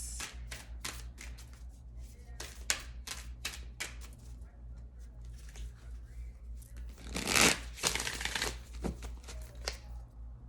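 A deck of tarot cards shuffled by hand, quick papery riffles and taps in bursts with a louder flurry near the end, close and quiet.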